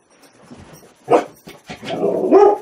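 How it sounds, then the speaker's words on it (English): A dog barks indoors at home, a few sharp barks followed by a longer, louder run of barking and whining, fairly close and with no talk over it. "Sorry, the dog's barking."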